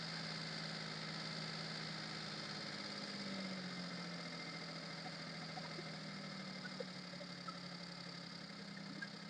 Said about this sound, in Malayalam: ഇപ്പോൾ എഞ്ചിൻ റേസ് ആയിട്ട് നിൽക്കുന്നുണ്ട്